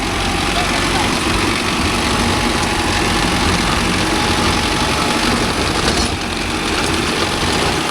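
A Mahindra 605 DI tractor engine runs in low second gear with a loud, steady diesel drone and rumble that holds for the whole stretch, with a voice talking over it.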